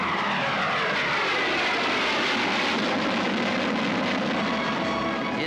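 Aircraft roar steadily overhead at the Tushino airfield display, including heavy missile carriers and supersonic fighters, with a loud, continuous engine drone and no speech.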